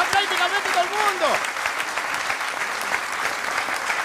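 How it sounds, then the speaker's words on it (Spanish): Studio audience on a Canarian Christmas parranda TV show breaks into steady, dense applause that fills the whole stretch, with a voice briefly heard at the start. "Vamos a dar un aplauso."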